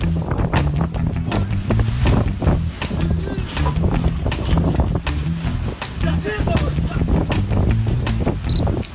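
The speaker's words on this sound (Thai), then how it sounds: "จะเกิดอะไรขึ้นเมื่อคุณพยายามยกของในสภาพอากาศที่มีลมแรงจัด" Strong gusting wind buffets the microphone outdoors while things are being lifted, a loud continuous roar and rumble throughout with muffled thumps.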